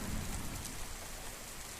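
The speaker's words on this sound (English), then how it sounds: "Torrents of heavy summer rain." Heavy summer rain pours in a dense, steady hiss, with a faint low rumble underneath and no voices.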